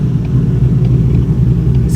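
A 2019 Mustang GT engine with a ghost cam tune idles roughly, as if about to stall: a steady, loud low rumble with an uneven, lumpy pulse, heard close up with no talking.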